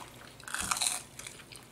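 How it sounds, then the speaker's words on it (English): A crunchy bite into Sonic fast food during a large eating session, a single close crisp crunch with wet chewing around it, fairly quiet and with no talking. "did y'all hear that crunch?"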